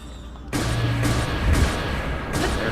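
Enemy gunfire aimed at the player in Zelda: Breath of the Wild after a treasure chest is opened, with sharp bursts of shots breaking out suddenly and repeating over a steady loud background.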